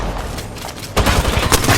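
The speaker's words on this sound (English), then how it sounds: "They're shooting at me." Gunfire in the battle royale shooter Apex Legends, rapid bursts of shots close by erupting after a brief lull, loud and sharply repeating.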